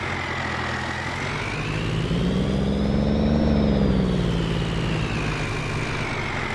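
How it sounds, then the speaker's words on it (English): A 1970s farm truck in the Farming Simulator video game accelerates, its loud, steady engine drone climbing in pitch and then easing back off, close and continuous with no talk. "we're going to go ahead and hit the gas and see how fast this thing can go"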